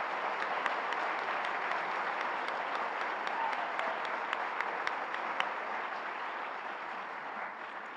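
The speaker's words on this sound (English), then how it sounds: "Please give them a big round of applause for supporting our students." An audience at a high school student achievement night claps for scholarship sponsors, giving steady, moderately distant applause that keeps an even level for the whole stretch.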